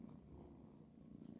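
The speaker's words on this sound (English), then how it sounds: "I love your purr." A tortoiseshell kitten purrs steadily and softly up close, a low continuous rumble filling the whole moment without any talking.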